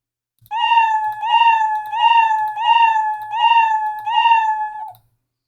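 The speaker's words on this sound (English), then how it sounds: "So it's a higher pitch meow." A tonal, synthetic higher-pitched cartoon cat meow from Scratch repeats about six times in an even rhythm, high-pitched and loud, with no other sounds.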